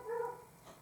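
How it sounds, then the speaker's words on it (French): A dog gives a short, fairly close whimpering yip or bark, one brief tonal burst followed by a fainter second cry, alone without talk. "Ça, c'est mon chien."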